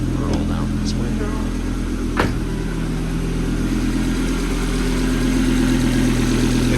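A Volvo V70R in Flash Green with Atacama interior idles steadily with a low, even engine hum throughout, with a brief sharp click partway through and a voice speaking faintly over it.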